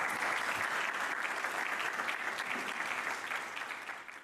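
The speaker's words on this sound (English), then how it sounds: "let's give a warm round of applause to Mr. Claudio Bacigalupi." Steady applause fills the room at the opening of the Inaugural Circular Zambia Forum 2025, a dense, sustained clapping from the audience that slowly tapers over about four seconds.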